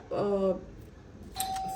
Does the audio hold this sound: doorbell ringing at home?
yes